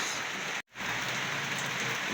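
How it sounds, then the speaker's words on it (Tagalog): Steady rain pours down in a constant hiss, with a brief cut to silence partway through before the downpour resumes. "Yan po yung ulan mga kapix."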